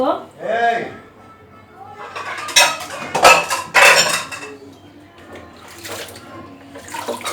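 Small fish, potatoes and vegetable stems are washed in metal pots, with splashing water, clanking pots and scraping utensils coming in loud bursts, and a voice speaks briefly at the start.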